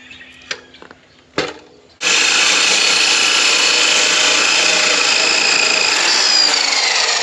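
Hole saw notching a pipe held in a vise, a few sharp clanks of setup handling, then a loud, sustained whining grind of the power tool biting into the metal that runs steadily to the end.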